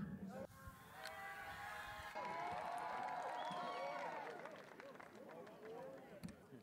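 Comedy night crowd at Probeatz Shoko 2024, with a sustained wash of clapping, cheering and crowd babble that swells and holds for several seconds; a voice is heard briefly over the noise.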